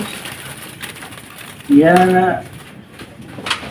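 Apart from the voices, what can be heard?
zebra dove (perkutut) cooing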